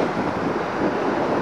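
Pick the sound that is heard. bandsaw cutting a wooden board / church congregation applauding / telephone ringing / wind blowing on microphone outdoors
wind blowing on microphone outdoors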